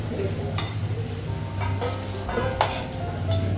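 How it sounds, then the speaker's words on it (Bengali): Lentil dumplings (bori) fry in a pan on a gas stove, giving a steady close sizzle with scraping stirs and occasional clinks of utensil against the pan. "গ্যাসটা কমানো, ভাজা হয়ে গেছে"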